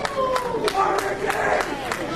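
A wrestling crowd at Ecstasy of Gold III (2016) during Ricky Starks vs. Sammy Guevara roars steadily, punctuated by sharp rhythmic claps or stomps, with a voice talking over the din.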